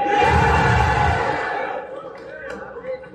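A packed crowd at a Filipino rap battle roars and cheers loudly for about a second and a half, then the noise fades to a lower murmur with scattered shouts.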